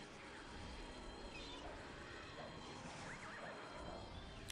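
A horse whinnies in Ultima Online, a rising squeal heard twice over a steady, dense bed of game ambience and background noise, fairly faint rather than up close.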